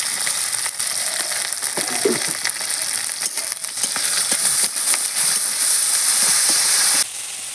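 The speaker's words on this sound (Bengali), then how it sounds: "পেঁয়াজটা আমার ভালো করে ভাজা হয়ে গেছে" Chopped onion frying in oil in a pan for a fish curry, a loud continuous crackling sizzle with quick spatula scrapes, close up and alone.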